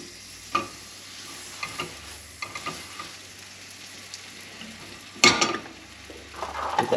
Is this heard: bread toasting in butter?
yes